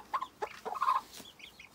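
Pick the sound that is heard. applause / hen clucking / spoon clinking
hen clucking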